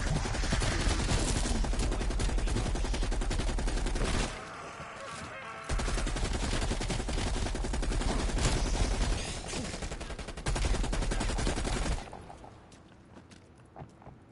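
Sustained automatic gunfire in Call of Duty Cold War Zombies, dense rapid rattling bursts that run almost continuously, broken by short pauses, before dropping away to quieter shots at the end.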